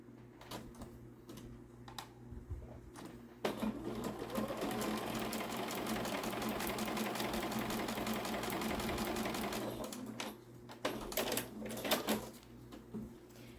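Sewing machine stitching quilt strips for a postage stamp quilt, a steady rapid run of close stitching lasting about seven seconds, with short bursts and handling clatter before and after.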